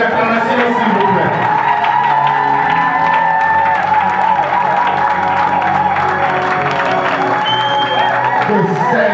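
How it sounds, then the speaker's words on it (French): Guests at a civil wedding ceremony in Gabon cheer and clap for the newly united couple, with loud applause mixed with excited voices, whoops and ululating cries throughout. "Sous vos acclamations, s'il vous plaît."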